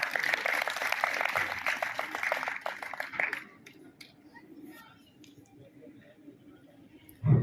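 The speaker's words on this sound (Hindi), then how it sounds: "एक बार जोरदार तालियों के साथ।" Applause from an audience at a tehsil-level talent felicitation ceremony, a dense wash of clapping lasting about three seconds before cutting off abruptly into quiet room murmur.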